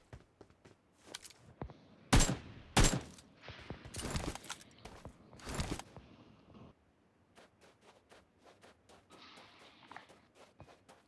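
Gunfire rings out in a multiplayer shooting video game: a handful of sharp, loud shots in uneven bursts, followed by quieter scattered clicks and steps as the action dies down.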